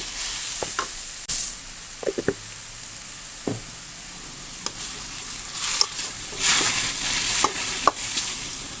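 Food stir-fried in a pan gives a steady high sizzle, broken by scrapes and knocks of the spatula against the pan, loud and close with no talking.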